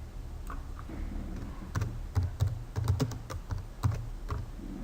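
Cable details are typed on a computer keyboard in quick, irregular bursts of close, crisp key clicks against a quiet background.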